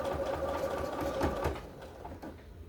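A sewing machine runs steadily while stitching fabric for a cushion cover with a French seam, a close continuous mechanical whir that eases off toward the end.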